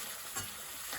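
Spices sizzle and crackle in a hot pan while being stirred for a garlic chilli chicken jalfrezi, a loud, continuous frying hiss up close.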